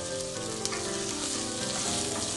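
Green and red chillies frying in a pan for poori masala, a loud, unbroken close-up sizzle with no pauses.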